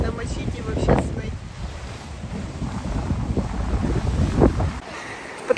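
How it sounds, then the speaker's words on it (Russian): Strong sea waves surge and crash onto the shore at an Odessa beach, a continuous loud roar with wind buffeting the microphone and a few heavier breaking surges standing out. "Такие сильные волны."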